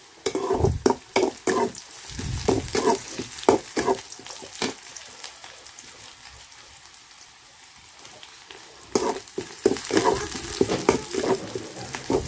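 Onions frying in a pan, scraped and stirred in bursts of loud scratchy sizzling at the start and end, with a quieter steady fry in between.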